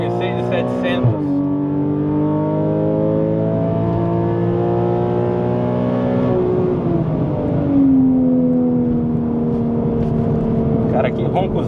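A Porsche Cayman S 3.4 with straight exhaust held at high revs against the brakes for a launch, a loud sustained howl with pitch shifts and a rising sweep near the end, people talking over it.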